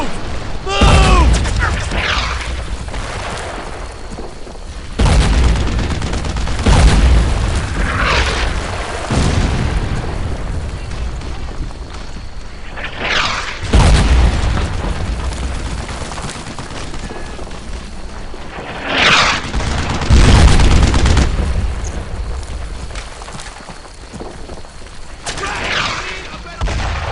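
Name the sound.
gunfire and explosions in the video game Brothers in Arms 2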